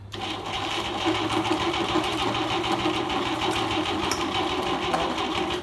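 An engine cranks on its starter without catching, a steady mechanical churn that carries on loudly and evenly from start to finish with no firing.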